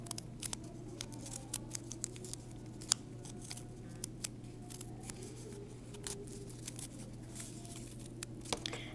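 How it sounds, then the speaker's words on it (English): Repeated small scissor snips cutting paper at close range, irregular clicks over a steady low hum, no voices. "I get more leverage when I cut with the inside part of the scissors."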